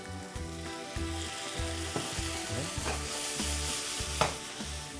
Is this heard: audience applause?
no